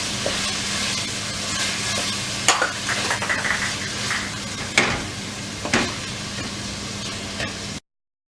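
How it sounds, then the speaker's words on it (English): Tomatoes for pav bhaji cook in a pan after ginger garlic paste, giving a steady close sizzle with several sharp spatula scrapes and clinks against the pan. "Now add tomatoes. Cook the tomato till it is completely soft."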